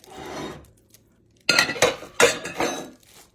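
Ingredients for Philly steak hoagies are stirred in a bowl: a soft scrape, then a burst of rhythmic clinking and scraping of a utensil against the dish, close and fairly loud.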